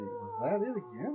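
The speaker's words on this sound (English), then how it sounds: "I'm sure it's just a dog." A large dog howls in the distance, a long wavering tonal cry rising and falling over about a second, with a person speaking quietly over it.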